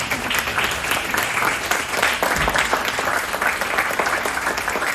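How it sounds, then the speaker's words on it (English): A crowd claps steadily and loudly for Tom Parks at a 2025 Citizen of the Year award presentation, a dense, continuous wash of applause with no voices standing out above it. "Please stand and give Tom Parks a congratulatory round of applause"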